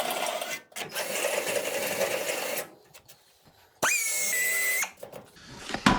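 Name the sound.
drill used in rocker panel rust repair on Chevy C10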